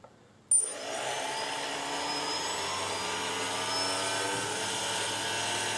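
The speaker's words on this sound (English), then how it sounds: "Now we're going to apply a little bit of throttle and go around just feeling the motors to make sure they're going in the right direction." Small drone brushless motors spin up under throttle with no propellers fitted, a sudden start followed by a steady, high-pitched whining hum with tonal harmonics that holds at an even, fairly loud level close by, with no talking.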